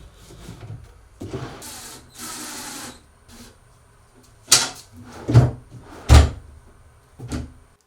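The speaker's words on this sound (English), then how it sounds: "install that drawer box directly into the case" Wooden drawer boxes slide and knock into a cabinet case in a woodworking shop, with soft rubbing scrapes followed by several sharp wooden thumps and clacks, close and alone.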